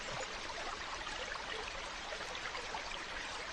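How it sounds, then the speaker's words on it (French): A small woodland stream trickles during a hike around Monteynard, giving a soft, even, bubbling wash that stays faint and continuous with no talking. "Allez, un petit ruisseau pour se rafraîchir."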